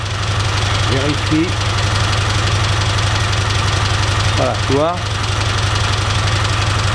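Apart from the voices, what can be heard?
cold engine running on a test stand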